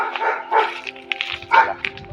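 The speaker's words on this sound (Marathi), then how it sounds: "इकडे कुत्रा कोणाचा आहे" A village dog barks repeatedly nearby, three or four sharp, rough barks in quick succession with brief pauses between them, fairly loud and close.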